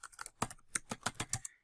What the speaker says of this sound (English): we're going to come down here and start typing